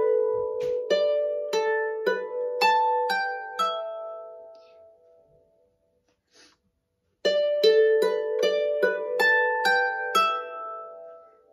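A Manx harp plays the descending ending phrase of Half A Manx Second too Late, plucked notes ringing softly and fading into a pause before the phrase begins again.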